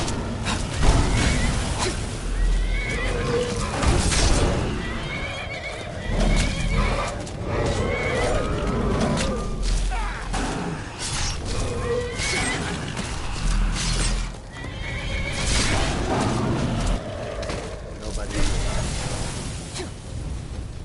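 A horse whinnies repeatedly in Skyrim amid hoof clip-clops, whooshes and crashing combat noises, with loud, busy game sounds throughout and no voices.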